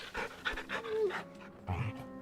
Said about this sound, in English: Big old puppy.